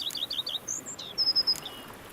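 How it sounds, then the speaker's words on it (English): Birds chirp in Witcher 3's peaceful countryside, a quick run of bright high tweets followed by a longer sustained whistle and a second brief trill, clear and alone against a soft ambient backdrop. "Bees buzzing, birds chirping."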